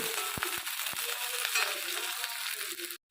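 Small shallots sautéing in hot oil for a vegetarian stir-fry, a steady close crackle and sizzle with a few soft thumps from the pan, ending abruptly.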